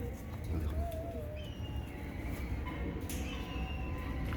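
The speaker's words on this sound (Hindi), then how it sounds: "ये देखो, ये डब वाले कबूतर।" Dub breed pigeons cooing in a loft, low soft coos running steadily under background noise with faint higher chirps from other birds.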